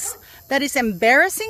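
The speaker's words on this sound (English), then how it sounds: "I'm sorry my dogs are in the back." Dogs bark and whimper in the background of a home, fairly close, while a person keeps talking over them.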